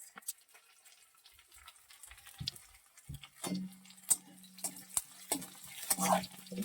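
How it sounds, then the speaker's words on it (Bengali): Pumpkin and potato curry with onion cooking in a pan, quiet at first, then soft sizzling with scattered clinks and scrapes of a spoon stirring, close and moderately faint. "চলো ওইদিকে দেখো, কুমড়ো আলুর তরকারি করছি"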